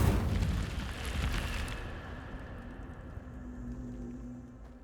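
The Incendio fire spell goes off in Hogwarts Legacy as a loud burst of roaring flame that swells at once and then fades into a lingering low rumble over several seconds.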